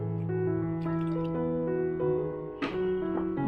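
Water is poured into a pot of raw mango slices, giving a close, steady liquid pour with rising tone and a brief splashy clatter near the end.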